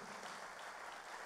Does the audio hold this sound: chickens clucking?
no